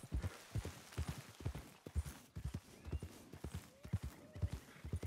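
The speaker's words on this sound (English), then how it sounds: "I hear a horse." Horse hooves clip-clop steadily at a walking pace, each step a distinct thud in a regular rhythm, fairly faint and with no talking over it.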